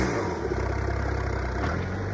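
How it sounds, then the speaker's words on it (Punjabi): A tractor engine at a village tractor contest runs steadily nearby, a loud, even rumbling drone that holds throughout with little change in pace. "ਟਰੈਕਟਰ ਤਵੀਆਂ ਦਾ ਆ ਰਿਹਾ"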